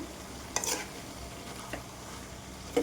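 A brinjal and tomato curry being stirred in a pan, with a few short scraping clicks of the spoon against the pan over a faint, steady background; quiet and close, no talking.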